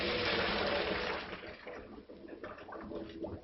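Water gushes loudly as cooked farro, handled like pasta, is poured into a strainer, the heavy pour easing after about a second into a lighter, uneven trickle and splatter close by.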